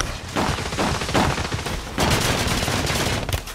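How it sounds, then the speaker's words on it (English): Rapid gunfire in a multiplayer shooter video game, a shotgun among the shots, with loud dense bursts and blasts packed across the whole stretch, a sharp heavy volley near the middle, no talking. "Oh, I hit a guy with a shotgun."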